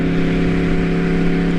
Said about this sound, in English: Can't get over the exhaust note, man.